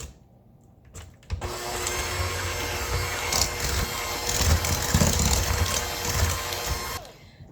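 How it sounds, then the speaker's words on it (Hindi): An electric mixer beats eggs and a cup of sugar at high speed for a strawberry cake, a loud steady whirring drone with rattling bowl contact, starting abruptly and cutting off near the end, no talk. "1 कप चीनी ये इसमें डालेंगे और इसको बीट करेंगे हाई स्पीड पे 5 मिनट के लिए"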